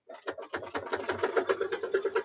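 An embroidery machine stitches out a mug rug in the hoop, running a steady rapid needle rhythm of dense repeating clicks and hum that starts up and settles into a continuous mechanical pattern, close and fairly loud with no voices.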